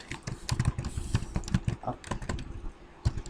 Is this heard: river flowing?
no